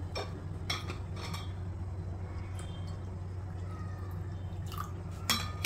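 Water is poured into a panipuri water mixture seasoned with cumin powder and chaat masala, giving a soft, steady trickle and faint drips with a few light clinks close by.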